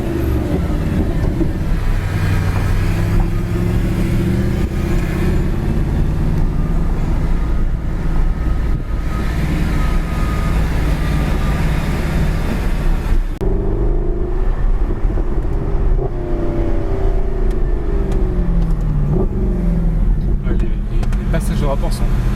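A Mercedes SLS AMG about five years old accelerating hard, a loud continuous engine roar rising in pitch, broken by quick gear changes, under someone talking.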